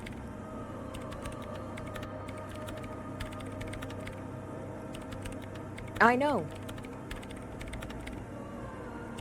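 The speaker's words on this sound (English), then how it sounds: "Her hands typing hundreds of commands into the machine." Fast, steady typing on a machine keyboard in the Disco Elysium video game, a dense run of light key clicks under faint background ambience, with a brief spoken remark partway through.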